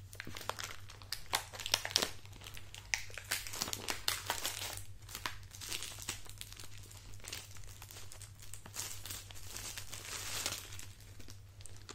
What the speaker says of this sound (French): je vais déballer le display